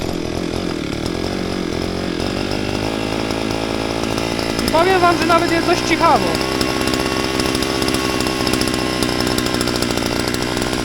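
Small two-stroke brush cutter engine fitted to a homemade moped idles in a steady buzzing drone on a wet, muddy outdoor spot, rising briefly in a short rev near the middle, with someone talking over it.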